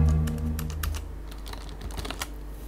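Rapid, uneven keystrokes clatter on an old computer keyboard, close and fairly loud, over a low steady hum.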